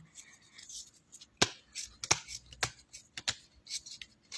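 Tarot cards are drawn and laid down at close range, a series of crisp flicks, slaps and papery rustles in an irregular rhythm.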